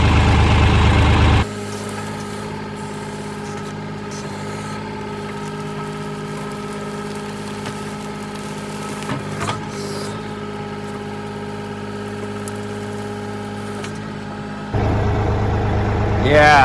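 A Kioti tractor engine runs steadily at idle with a low, even hum throughout, louder and rougher at the start and end, with talk over it.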